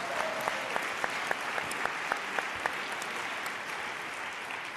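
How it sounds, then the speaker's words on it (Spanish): A crowd applauds steadily, with a few sharper individual claps standing out near the start, moderately loud throughout. "Pino Solanas, aplauso."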